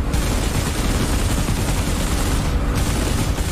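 Sustained aircraft machine-gun fire from a WWII fighter in a DCS World air-combat simulation over Malta, a dense, loud, continuous rattling barrage with no pauses and no voices.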